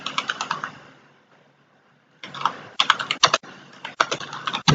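Computer keyboard keys clatter in quick bursts while code is written, a brief typing run, a pause of near silence, then denser rapid keystrokes resuming, close and clear with no speech.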